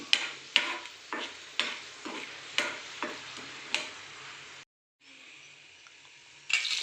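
Peanuts and onion fry in a pan, stirred with regular scraping strokes about twice a second over a soft, steady sizzle. After a brief gap, the sizzle continues alone.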